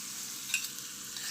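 Hot tempering of oil with sesame seeds spooned over khandvi, a brief steady close sizzle with a couple of small crackles.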